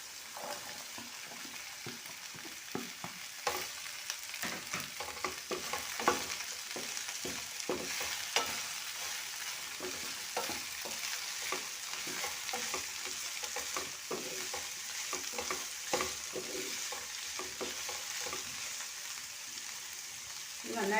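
Sliced onions sizzle in a pan for an okra (lady's finger) stir fry, with a steady crackling hiss and frequent scraping stirs throughout, heard close up.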